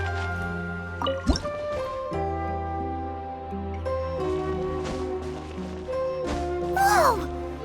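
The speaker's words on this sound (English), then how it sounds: "Wow, another water droplet just came out from the wall!" Water droplet dripping from a wall in the video game Genshin Impact, a few soft drip sounds set against a steady layered game music score, with a brief splashy burst near the end.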